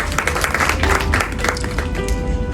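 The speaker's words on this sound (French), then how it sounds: "Donc vous pouvez vous applaudir ici." Audience applause at an organization's annual general assembly: a dense, steady patter of many hands clapping at moderate loudness, continuing for a few seconds.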